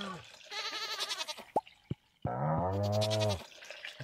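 Goats in the Stardew Valley farm game bleat twice with a gap between calls. The first call is quavering and somewhat muffled, and the second is louder and sustained. Soft clicks and taps sound in between.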